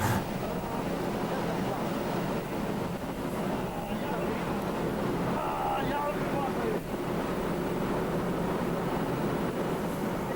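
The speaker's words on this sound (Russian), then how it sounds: "Просто океан кипит, как чайник какой-то. Еще и ветер такой все это сносит, ураганище." Stormy Atlantic Ocean in December seen from a ship, with rough boiling waves and howling hurricane-force wind roaring steadily and loudly throughout, broadband wind noise buffeting the microphone.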